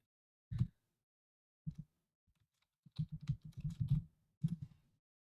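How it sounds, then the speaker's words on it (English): Computer keyboard typing at close range in a quiet room, coming in scattered keystrokes and then a short rapid burst of taps, with pauses of silence between. "So if you hear the typing"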